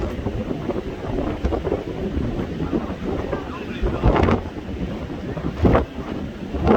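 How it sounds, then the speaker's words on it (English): Strong wind at Hermosa Beach pier buffets the microphone in loud, rough gusts, with distant surf and faint talk beneath. "This is some crazy ass wind"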